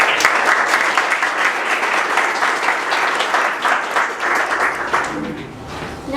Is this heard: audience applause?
yes